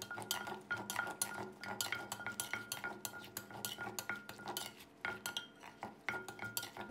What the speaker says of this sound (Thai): แล้วก็ให้เราตำคลุกเคล้าให้เข้ากันนะครับ